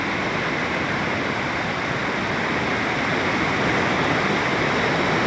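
Fast-flowing water pours over a waterfall beside Girjani road, a loud, dense, unbroken roar with no voices.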